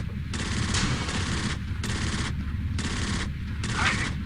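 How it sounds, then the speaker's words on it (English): Coaxial machine gun on a tank in the game Panzer Elite firing in four sustained bursts separated by short pauses, moderately loud and clear with no talk. "you also have a coaxial machine gun"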